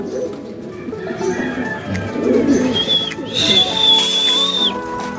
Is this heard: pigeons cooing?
yes